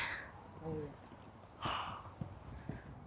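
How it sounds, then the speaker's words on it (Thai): Heavy, breathy panting from someone climbing the steps up Mt. Fuji, coming in a few rough gusts of breath with brief voice sounds between them. "ตอนนี้ได้ยินแต่เสียงหอบหมดเลย"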